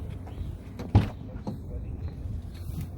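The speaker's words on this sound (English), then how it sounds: "The door has a really nice opening sound, like when you open it, it goes boom" A Dodge Durango R/T car door opens with one sharp, close thump, under low background rumble with faint talk around it.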